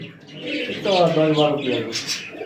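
Pigeons, including American Lakka breeds, coo close by at a pigeon farm, soft throaty warbling calls rising and falling over a couple of seconds, with a brief chirp near the end.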